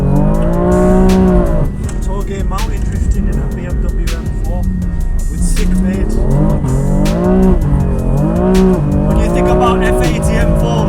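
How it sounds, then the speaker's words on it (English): BMW M4 drifting on a cold mountain road with snow along the sides, tires squealing in long rising and falling wails over a loud, revving engine, close and continuous. "mountain drifting in a BMW M4 with SikhMade"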